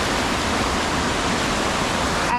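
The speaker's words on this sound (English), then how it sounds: "The water continues to cascade down to the lower falls" Waterfall in the Columbia River Gorge cascading down toward a lower falls, a steady, loud, dense roar of rushing water that holds constant throughout with no pauses.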